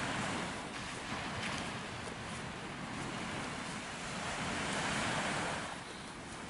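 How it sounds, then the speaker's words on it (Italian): Calm sea washing onto the beach at Marina di Vecchiano near Viareggio, a steady broad wash of gentle surf with soft swells rising and falling, mixed with some wind noise on the microphone, no voices. "non è troppo mosso, ma non è nemmeno mosso, è calmo il mare."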